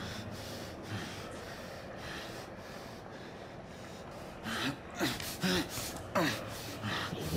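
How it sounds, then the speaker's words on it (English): Heavy, labored breathing from a character in The Order: 1886 after being tortured, ragged breaths and snorts growing louder and more pronounced in the last few seconds over a low game ambience. "You are breathing. Heavy as fuck."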